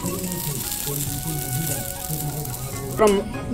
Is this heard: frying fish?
yes